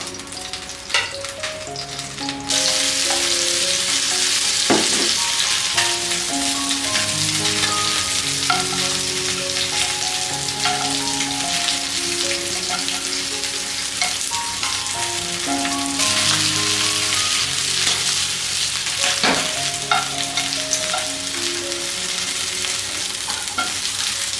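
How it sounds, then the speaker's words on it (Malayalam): Chicken pieces shallow-fry in oil in a pan, giving a loud, steady, crackling sizzle that starts after a brief quieter moment and carries on unbroken at close range. "ഈ ചിക്കൻ നമുക്ക് ജസ്റ്റ് ഒന്ന് ഷാലോ ഫ്രൈ എടുക്കാം"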